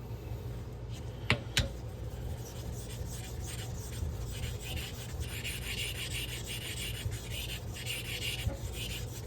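A straight razor honed on a Shapton 1.5 whetstone for a back bevel, soft gritty rubbing strokes repeating close up over a low steady hum, with a couple of sharp clicks near the start.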